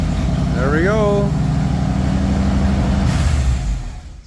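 A Bombardier machine's engine catches and runs, a loud, rough idle with a rise in revs before it drops away near the end; a high whistling squeal sounds briefly at the start.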